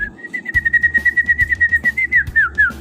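A male oriental magpie-robin (murai batu) sings up close, giving a sustained, clear whistled note that wavers and slides toward the end, over soft rhythmic background bumps.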